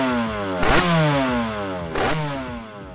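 A Derbi DRD motorcycle with a Euro 3 engine and balance shaft revs twice in sharp, rising bursts over a buzzing idle, loud and near with no voices.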